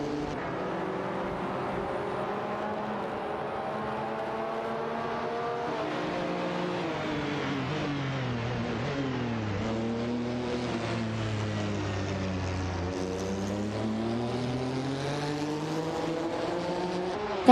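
Race cars lapping a circuit in a simulated racing series, with a continuous droning engine roar whose pitch sweeps down and back up as cars pass, steady and fairly loud with no voices.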